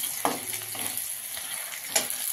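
Green chilies and potato pieces fry in a pan, giving a steady sizzling hiss with occasional scraping stir sounds from turning them.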